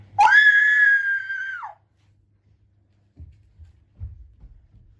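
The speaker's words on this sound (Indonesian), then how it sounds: "di mana orang menjerit tadi" A person lets out one loud, sustained high scream lasting over a second, followed by silence and a few faint low thumps.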